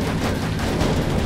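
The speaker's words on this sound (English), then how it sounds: "Is this guy's car gonna explode?" A car explodes in the video game Death Skid Marks: a loud, dense, sustained blast roar filling the whole short moment, with no talk over it.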